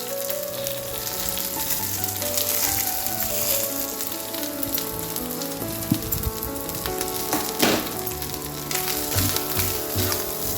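Grated coconut frying with fennel seeds and cumin in a pan for a chana curry, a steady dense sizzle with occasional stirring scrapes and clinks, continuous and close throughout.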